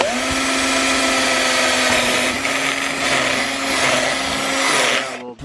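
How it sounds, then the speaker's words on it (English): A power drill bores a hole in a new vehicle's grille, a loud steady high-pitched whine held for several seconds before cutting off abruptly at the end. "We'll drill another hole right at the bottom there."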